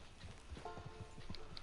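Horse hooves clip-clop at a walking pace in Red Dead Redemption 2, a quiet, irregular series of soft thuds over a low background.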